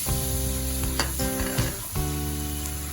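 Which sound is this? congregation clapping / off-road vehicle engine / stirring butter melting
stirring butter melting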